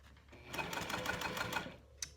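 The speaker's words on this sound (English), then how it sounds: "I'm stitching just very closely to the edge here, 1/8 or a little under 1/8 of an inch." A sewing machine runs in a steady burst of rapid stitching close to a fabric edge for a key fob wallet, near and fairly quiet, with a brief click at the end.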